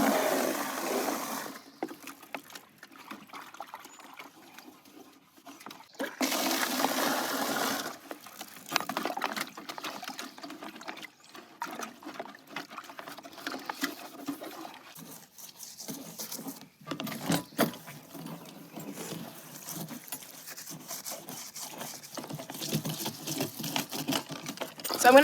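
Water pours into a chicken waterer outdoors, a steady broadband rush with brief pauses and surges, some splashing and patter as the container fills, fairly close with no talking.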